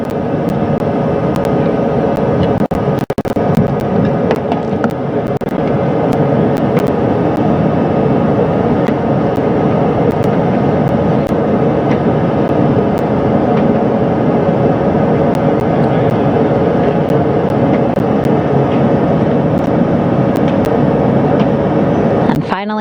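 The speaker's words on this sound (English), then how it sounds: "over to the other helicopter, which is carrying Commander Reed Weissman and Mission Specialist Jeremy Hansen" Helicopter flying during the Artemis II crew recovery at sea, a steady loud rotor and engine drone holding throughout, with broadcast commentary talking over it.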